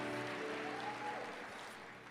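An audience at a church talk applauds together, a soft, even patter of many hands heard at a distance, slowly fading.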